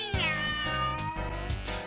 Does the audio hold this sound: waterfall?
no